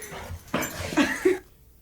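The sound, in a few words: playful dog whimpering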